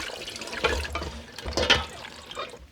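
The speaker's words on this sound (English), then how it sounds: "I'm gonna drain out all the water." Water splashes and drains from a bowl of salted cabbage for kimchi, a few close, uneven sloshing pours and drips at a sink, with no one speaking.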